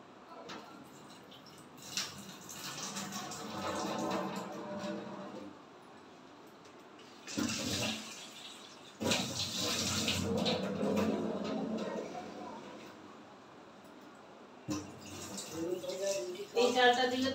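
Gobindobhog rice washed in water, with sloshing and swishing in bursts separated by quieter gaps, plus some dripping and a voice speaking at times.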